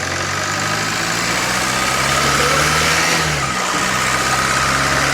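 A Peugeot Expert van engine runs steadily in a repair shop, a loud continuous idle with low mechanical drone and a slight rise in revs partway through, no talking.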